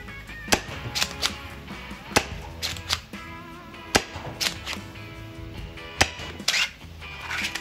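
A Zinc 2.0 blaster fires a string of shots through a chronograph, giving about ten sharp, close snaps at irregular intervals, with a little background noise between them.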